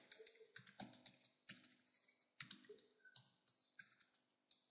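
Fast typing on a computer keyboard while entering a line of Python code, a close, steady patter of crisp key clicks with a few heavier strokes and no talking.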